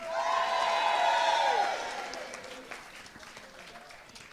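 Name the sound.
audience applause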